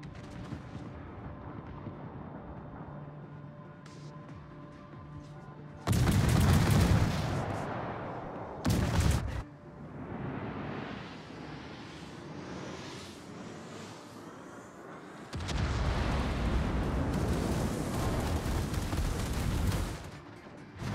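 Heavy artillery and gunfire barrage from a metal track, with loud bursts of booming fire around 6–9 s and again from 15–20 s over a lower continuous rumble, no voices.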